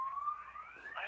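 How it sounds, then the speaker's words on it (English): A car alarm set off by a lightning strike sounds faintly in the distance, a single rising electronic tone sweeping upward over about a second. "Car alarm's going off."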